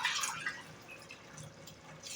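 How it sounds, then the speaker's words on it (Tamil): Three tumblers of water trickling and splashing as they are poured into a pot for chicken biryani, with small irregular drips and a faint, close, liquid sound. "நான் 3 டம்ளர் தண்ணி ஊற்றிக்கிறேன்."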